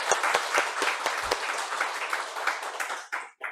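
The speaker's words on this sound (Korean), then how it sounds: "우리 격려의 박수를 크게 한번 더 할까요?" A church congregation gives a warm round of applause, dense steady clapping that carries on for a few seconds before tapering off and ending in a couple of last scattered claps.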